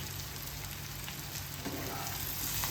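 Bitter gourd and onion sizzle steadily in a pan over low heat, a dense continuous frying hiss with faint scraping as the pieces are stirred.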